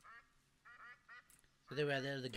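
Game duck quacking in a bird-focused map of The Hunter: Call of the Wild, a few soft quacks followed by a louder, longer burst of calls near the end.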